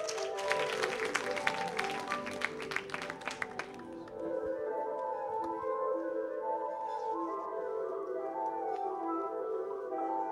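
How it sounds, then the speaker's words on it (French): An audience at a French-language award ceremony claps for an embassy counsellor. A burst of scattered hand claps lasts about four seconds, then gives way to sustained tonal music as the applause dies out. "Il faut l'applaudir, s'il vous plaît."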